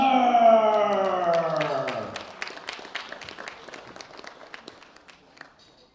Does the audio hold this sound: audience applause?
yes